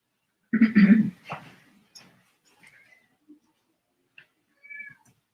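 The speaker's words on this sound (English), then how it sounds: "my cat has joined us here" A house cat meows close by with a loud drawn-out call, followed by a shorter meow and a few faint small vocal chirps and sounds, then a brief soft mew near the end in a quiet room.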